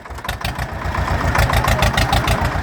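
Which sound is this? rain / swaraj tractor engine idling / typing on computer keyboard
swaraj tractor engine idling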